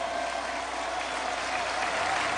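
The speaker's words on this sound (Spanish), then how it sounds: "lo vamos a aplaudir" Steady wash of crowd applause at a televised public gathering in honor of Pope Benedict XVI, dense and even throughout with no break.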